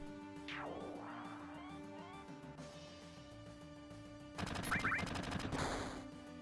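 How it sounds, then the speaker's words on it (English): Grenades blast in a Final Fantasy 7 battle, a quiet whooshing effect early on, then a loud cluster of crackling explosive bursts about two-thirds through, with no voices. "So we're just gonna keep unleashing grenades on these guys."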